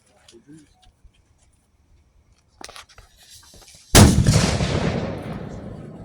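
A Civil War muzzleloading mortar or cannon fires at a live-fire demonstration, one loud, close boom with a long rumbling decay, preceded by faint outdoor background sounds and distant voices.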